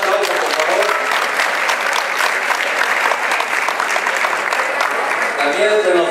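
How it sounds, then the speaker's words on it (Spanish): Loud, dense applause from an audience at an ejido centennial gathering, continuous and close for the whole stretch with voices faintly mixed in. "Un aplauso, por favor."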